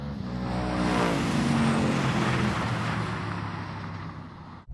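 Several Mustangs drag racing, from a first-generation car to the latest seventh-generation model, roar past as a loud sustained engine blast with rising revs, fading away near the end.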